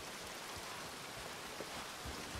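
Rain from the game Red Dead falls as a soft, even hiss, faint and continuous with no voices.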